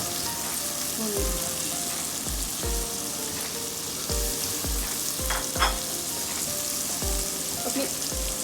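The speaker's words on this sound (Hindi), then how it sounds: "मेरे पास है 2 मीडियम बारीक कटे हुए प्याज। चलेंगे तो हम इसमें भूनेंगे।" Finely chopped onions fry in a pan with a loud, continuous sizzle, punctuated by repeated spatula stirs and taps at a roughly regular pace, close up and without talk.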